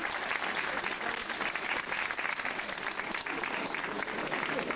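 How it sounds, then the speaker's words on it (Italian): Steady, dense applause from a crowd at a village pastry festival in Sant'Angelo all'Esca, sustained at an even level for the whole stretch with no break. "Applauso."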